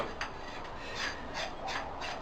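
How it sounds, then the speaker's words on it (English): Axe being sharpened, soft gritty rasping strokes repeating at an uneven rhythm, quiet and close. "that little bit of wetness you see right there is me sharpening my axe"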